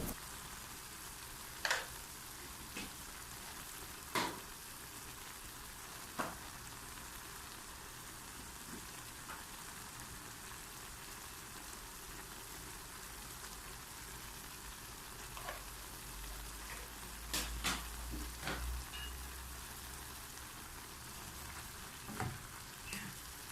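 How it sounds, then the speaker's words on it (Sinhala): Mixed rice with chilli pieces and pepper powder fries in a pan and is stirred. A steady close sizzle runs throughout, with occasional scraping stirs and clinks from the utensil, and no voices. "මේ ටිකත් හොඳට කලවම් කරලා බැදෙන්න අරින්න ඕනි."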